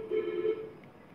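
A telephone rings with a steady electronic tone that fades after about half a second, fairly faint, during a late-night live show with no talk over it.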